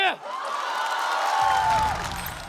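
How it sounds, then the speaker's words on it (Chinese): A comedy club audience applauds and cheers for a stand-up comedian, a steady wash of clapping and whoops that holds for a couple of seconds after a brief voice. "掌声有请于翔宇。"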